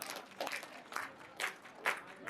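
An audience at a pro wrestling match claps in unison, about five loud, evenly spaced claps from a crowd in a hall, with faint crowd noise between them.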